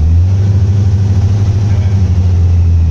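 A car engine fitted with CB Performance Gen4 EFI runs at a steady, loud, close low rumble with a slight throttle touch, the engine note staying mostly even through the short stretch.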